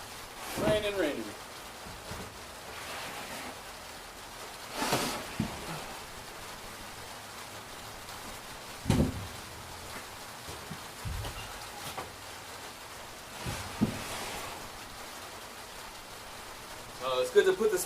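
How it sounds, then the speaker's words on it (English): Rain falling outside as a soft, steady hiss that runs beneath someone talking, broken by occasional knocks and bumps of objects being moved nearby. "Raining."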